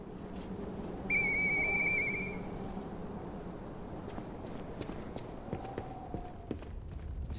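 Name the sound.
whistling in video game Lies of P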